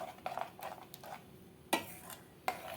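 Quiet scraping and swishing of a spoon stirring thick sweet corn gravy in a pot, with a few sharper knocks against the pot's side.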